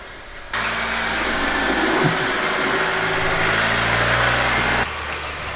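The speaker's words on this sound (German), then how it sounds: "Der kommt gerade im Auto." A car pulls up with its engine running, a steady mid-level hum that starts abruptly, holds for several seconds fairly close by, then cuts off.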